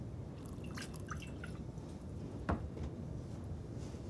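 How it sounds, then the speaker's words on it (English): Whiskey poured from a decanter into glasses gives faint liquid drips and small splashes over a quiet room, with one sharper clink near the middle. "The captain pours them both whiskey from a decanter"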